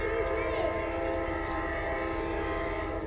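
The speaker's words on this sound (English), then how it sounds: "Mom, Connor, that's Auto Train." Amtrak Auto Train rolls past in Folkston with a P42 locomotive in the lead, its horn sounding as a loud sustained chord over the constant rumble of rail cars, close by and continuous.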